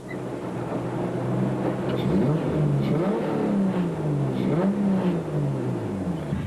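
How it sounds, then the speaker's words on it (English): A Ford Ranger rally truck in an African off-road race charges past, its engine revving and rising and falling in pitch over a steady roar, fairly loud and without voices. "While the Ford Ranger's interior obviously was just too warm for one's hands as Fantonda and Guapa charged by."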